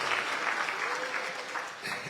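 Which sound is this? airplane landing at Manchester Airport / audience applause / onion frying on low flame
audience applause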